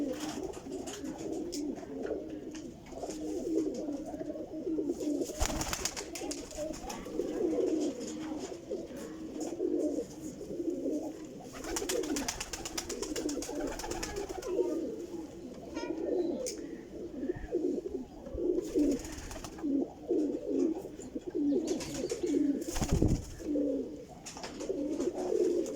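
A flock of pigeons coos continuously in a low, murmuring chorus, close and steady, with occasional faint knocks and rustles and no talking.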